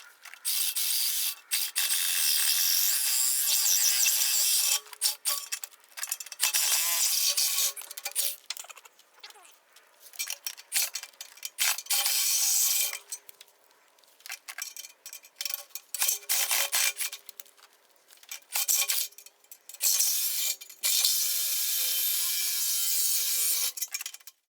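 A Sawzall reciprocating saw cuts through the exhaust down pipe of a 1996 Powerstroke, making loud, harsh rasping strokes in long bursts broken by short pauses.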